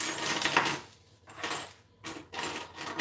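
Keys arriving as a mailed gift are handled and clink in short metallic jingles, loud and close, separated by brief silent pauses, with no voices.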